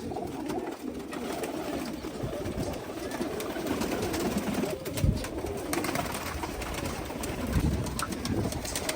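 Pigeons cooing: original Punjab-bred birds with red eyes, kept as pricey pairs. Soft repeated coos blend into a steady bed of nearby bird noise and low rumble for the whole stretch, with a few louder bursts and no clear talk.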